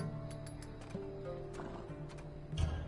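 Horse in Assassin's Creed Odyssey, with clip-clopping hooves and a neigh over a soft ambient game background, fairly faint, building slightly louder toward the end.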